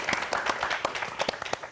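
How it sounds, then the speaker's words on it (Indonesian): Applause from a studio audience on a political talk show, with sharp individual claps standing out over a softer wash of clapping at moderate volume. "Tepuk tangan dulu dong untuk kita semua kali ini."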